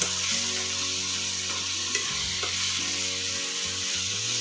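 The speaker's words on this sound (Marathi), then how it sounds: "तर यामध्ये आपण ह्या पेरूच्या फोडी घालणार आहे। छान असं परतून घ्यायचं आहे।" Guava pieces sauté in a hot pan for guava bhaji, giving a steady, close sizzle with bursts of stirring and occasional utensil scrapes, with no voices.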